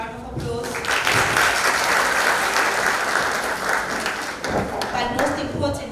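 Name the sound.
applause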